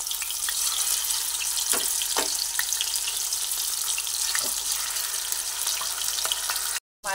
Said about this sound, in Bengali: তেলের মধ্যে মাছগুলো দিয়ে দিচ্ছি, দিয়ে মাছগুলোকে ভেজে নিচ্ছি।